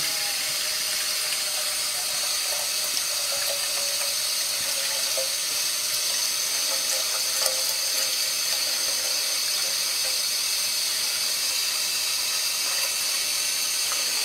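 Tap water pours steadily into a cooking pot at a kitchen sink, a continuous close hiss and splash that fills the whole stretch without pause or talk.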